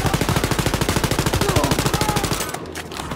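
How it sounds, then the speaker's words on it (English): Rapid automatic gunfire in the shooter game Wolfenstein: Youngblood, a loud close burst of evenly spaced shots that stops abruptly near the end. "Who the hell is even shooting?"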